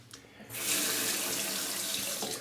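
A bathroom tap runs steadily for rinsing a Parker 90R travel razor, with a brief trickle before the water gushes loudly and continuously, then starts to taper off near the end.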